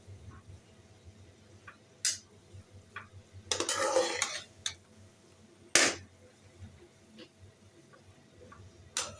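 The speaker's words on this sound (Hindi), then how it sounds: "अब आपने इसको मिक्स करना है और बिल्कुल हल्के हाथों से आपने मिक्स करना है" A spoon gently mixes grainy semolina halwa in a pan, with soft scraping and a few sharper clinks against the metal, quiet and close, with no talk.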